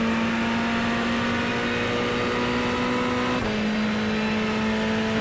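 Ferrari 488 GT3 Evo race car in iRacing at Interlagos, its engine droning at a steady high pitch at close range, then dipping briefly as the throttle eases before holding a slightly lower steady tone, with no talk.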